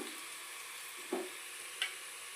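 Onions and tomato for chicken pulao frying in a pan, a faint steady sizzle with two short scrapes of a stirring spoon spaced about a second apart.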